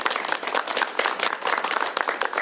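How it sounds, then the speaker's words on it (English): A crowd applauds a state representative at a bill signing ceremony, with dense, steady clapping from many hands throughout and a few faint voices mixed in. "Please give the representative a round of applause for his leadership on this bill."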